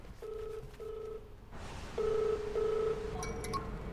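A mobile phone rings in an office scene, repeating two-tone electronic beeps in short bursts, louder in the second half, with a brief higher chirp near the end.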